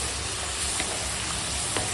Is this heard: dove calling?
no